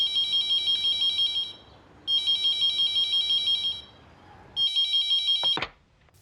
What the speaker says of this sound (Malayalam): ഈ ക്രൈമിൻ്റെ ആദ്യ പടി അന്ന് ആരംഭിച്ചത് പോലീസ് സ്റ്റേഷനിൽ ഫോൺ വന്നപ്പോഴായിരുന്നു.